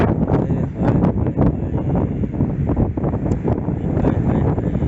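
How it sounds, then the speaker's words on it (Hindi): Strong wind blowing through Kalam forest in Swat, a loud continuous roar with gusty rustling and buffeting on the microphone across the whole stretch, with no voices. "ये हवा चल रही है, ये कोई हवा है यार।"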